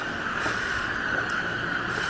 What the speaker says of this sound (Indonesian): KRL-nya masuk. Nah, ini dia nih KRL-nya nih yang tujuan Cikarang.